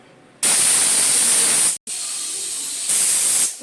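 A pressure cooker on a stove, cooking chole pulao rice, lets out a loud, close, hissing steam whistle that rises sharply, breaks off briefly, then continues strongly for a few seconds before fading.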